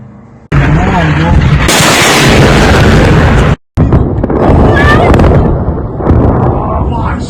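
Loud blasts from strikes on Tehran, Iran, hit as heavy booming bursts with rumbling aftermath. One abrupt cut splits the sequence, and a voice speaks faintly under the noise.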